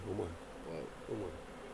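Honey bees swarm around a hive in a garden, a dense steady buzzing drone filling the background throughout with some low rumble.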